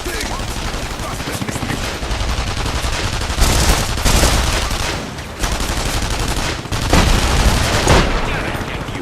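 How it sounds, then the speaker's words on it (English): Sustained gunfire in The Saboteur video game, dense bursts of automatic shots crackling continuously over several seconds with louder peaks, loud and close, with voices shouting at moments underneath. "Why you're shooting at me?"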